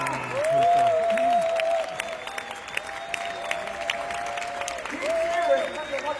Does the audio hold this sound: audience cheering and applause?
yes